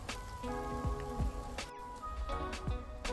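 Rain falling outdoors on a mushroom-foraging walk, a steady close patter of drops on surfaces with occasional sharper splats, continuous throughout with no talking.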